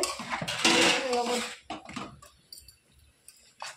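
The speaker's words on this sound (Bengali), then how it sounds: "দেওয়ার পরে নাড়াচাড়া করে ভালো করে গুগলি রান্না হচ্ছে" Freshwater snails being stirred while cooking in a pan with turmeric and salt give close, clattering scrapes of a utensil against metal, loudest in the first second and a half and then sparser, with a few light knocks toward the end.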